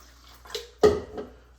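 A short splash and gurgle of water being poured into a beer can, a couple of quick bursts, close by and fairly quiet.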